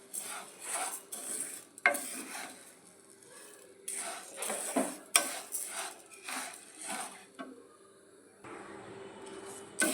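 Black gram dal dry-roasting in a pan, stirred in bursts of scraping and rattling with short pauses between, close and fairly quiet, with a faint hiss underneath and no voices.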